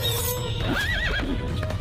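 A horse neighs once in a rising, wavering whinny over a steady low background and faint clip-clop of hooves, part of an animated comedy story about bandits stealing a horse.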